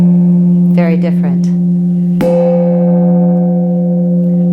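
A hand-held gong struck once with its matching mallet, a sharp hit blooming into a steady, sustained metallic hum that rings on loudly, with a brief spoken remark just before the strike.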